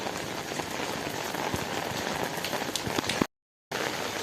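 Steady rain falls on a roof and nearby surfaces, a dense continuous patter with scattered sharper drops, moderately loud and cut by a brief dropout near the end.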